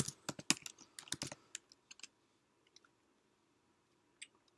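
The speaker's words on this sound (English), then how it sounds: "Oh, I typed it in wrong." Burst of keystrokes on a computer keyboard while a command is entered in a terminal, a quick cluster of clicks up front, then a few sparse taps trailing off into near silence.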